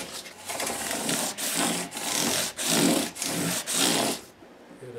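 Polishing paper is rubbed back and forth over walnut wood in steady, close strokes, with four or five brief pauses between passes and no voices.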